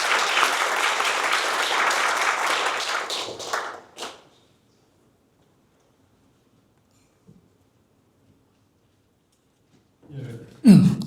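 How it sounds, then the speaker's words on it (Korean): Applause from a ceremony audience welcoming the university president to the podium at a 50th-anniversary event for a college of natural sciences, a dense clapping that lasts about four seconds and fades into silence, with a brief rustle near the end. "큰 박수로 환영해 주시면 감사하겠습니다."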